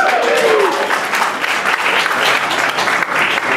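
An audience applauds at a film tribute screening event, steady loud clapping filling the room throughout with no talk over it.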